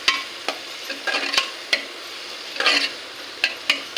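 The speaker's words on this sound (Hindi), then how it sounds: "उसके बाद इसको भी हम इसमें चलाते हुए अच्छे से मिक्स कर लेंगे" Garlic and chili paste stirred into onions frying in a pan for a ghiya and chana dal dish, with a soft continuous sizzle broken by repeated scraping strokes of the spoon, close and moderately loud.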